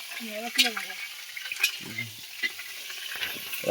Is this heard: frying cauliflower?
yes